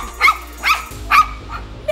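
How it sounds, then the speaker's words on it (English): A dog barks four times at a baby crawling up stairs, in short, sharp bursts spaced roughly half a second apart, fairly close and loud, with faint room noise between barks. "stop barking at my baby"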